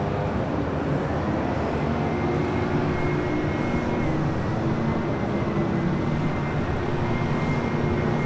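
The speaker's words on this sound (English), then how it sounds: "Next arrival, Delta Airlines Flight 685 coming from JFK and the 767-300 ER" A Delta Air Lines Boeing 767-300ER arriving at LAX from JFK gives a continuous, even engine roar with a faint steady tone, heard alone and fairly loud.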